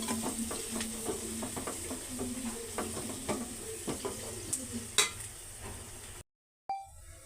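Curry leaves fry in hot oil, a steady close sizzle broken by soft stirring scrapes and a few sharper pan knocks, ending in a brief cutoff and a short return.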